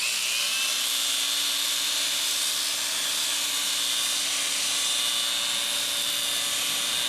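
A level 3 polishing pad runs across a quartzite vanity top, giving a steady, loud high-pitched whine and hiss that holds constant, close up and uninterrupted, with no voices.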